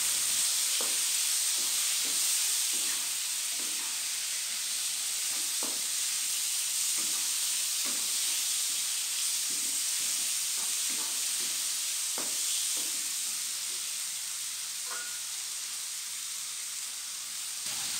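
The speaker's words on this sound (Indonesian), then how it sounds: "Ini kita masak sampai wortelnya matang, sampai udangnya matang ya." Carrots and shrimp frying in a pan for a simple home-style vegetable dish, a continuous soft sizzle and hiss with repeated stirring clicks and scrapes, no voices.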